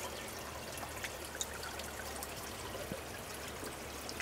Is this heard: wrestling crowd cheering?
no